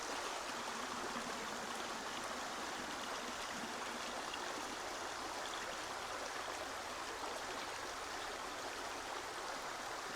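Water pours and rushes steadily while clay paydirt is washed down to black sand for gold mining, a constant close hiss with no pauses and no voices.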